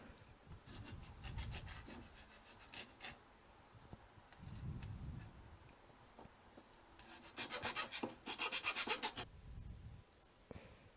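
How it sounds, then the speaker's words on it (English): Sandpaper and a file work the tips of a wooden crossbow bow limb, cutting string notches, giving steady close rasping strokes with rhythmic scraping bursts that grow busier toward the end. "round it off with sandpaper and file in notches for the string to rest in"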